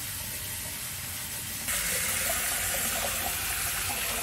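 Hot water gushes from a tap fed by a plate heat exchanger and 1000-litre buffer tank, a steady close hiss that grows louder and brighter partway through as the flow opens up.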